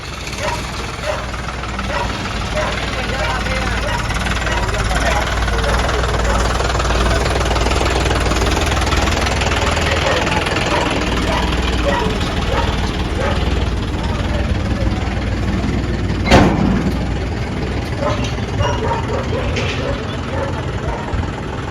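A John Deere 5210 tractor idles with a steady, loud, low rumble that runs unbroken through the whole stretch. Voices talk over the engine, and a brief sharp knock rises near the end.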